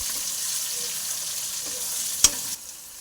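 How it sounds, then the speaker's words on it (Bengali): Onions sizzle steadily in hot oil in a pan with whole garam masala for an egg curry, a constant close frying hiss with a brief sharp clink near the end before it softens. "পেঁয়াজ দিয়ে দিলে লাল লাল করে ভেজে নেবে।"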